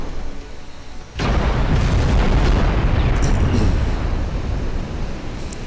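Naval guns fire in the Ultimate Admiral: Dreadnoughts warship game, a heavy boom erupting after a quieter opening and rolling on as a loud, sustained low rumble of shellfire, with a couple of sharper cracks later.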